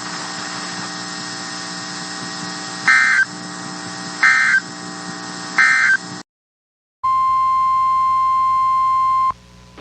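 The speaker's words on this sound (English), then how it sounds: "This concludes this weekly test of NOAA Weather Radio's warning alarm system." NOAA Weather Radio weekly warning alarm test: a loud buzzy broadcast tone with three brief pitch jumps, a moment of silence, then a long steady piercing sine beep.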